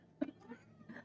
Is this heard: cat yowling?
yes